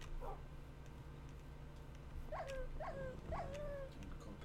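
A Minecraft wolf puppy whimpers in the video game, three short rising-and-falling whines in a quick even row near the end, over a steady low background hum.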